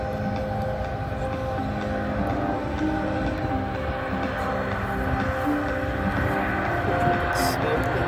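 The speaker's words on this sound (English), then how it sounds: "Flying our KC-135 today" A KC-135 aircraft flying at the Selfridge 2022 air show gives off a steady, distant jet roar with layered engine tones and faint crowd noise around it.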